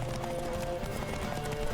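A horse gallops in The Witcher 3 video game with a steady clip-clop of hooves running continuously, close and fairly loud, set against a constant game soundtrack and ambience.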